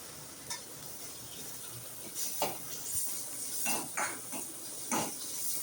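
Chopped onions soften in a pan for a Tamil dried-fish thokku, a quiet low sizzle broken by several light metallic spatula clinks and scrapes.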